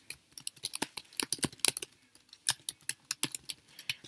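Typing on a computer keyboard into a search bar, a close, crisp run of rapid key clicks in uneven bursts with brief pauses, loud and clear with no talk.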